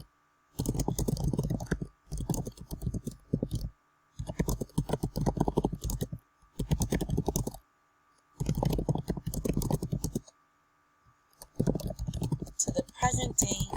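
Notes are typed on a computer keyboard in several bursts of rapid, close clicking keystrokes separated by short silent pauses.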